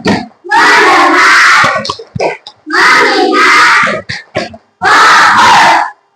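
An Indonesian fourth-grade class chanting the "tepuk fokus" clap routine, loud children's voices shouting in bursts with sharp claps between them, repeated three times with pauses.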